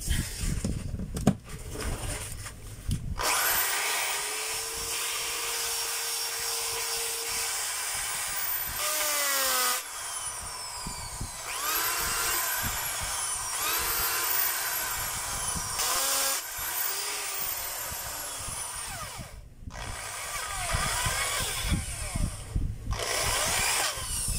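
A Bosch power tool with hammer and variable-speed functions runs on test after a wiring repair: a loud motor whine that starts and stops, revving up and down in several bursts with brief pauses.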